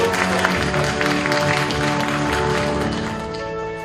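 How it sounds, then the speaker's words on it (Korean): Congratulatory applause from the audience at a Korean magazine day ceremony, a steady wash of many hands clapping at moderate loudness that carries on for several seconds. "축하의 박수"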